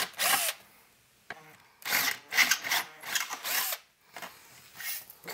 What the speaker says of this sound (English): I'm going to go ahead and drill it out one size larger.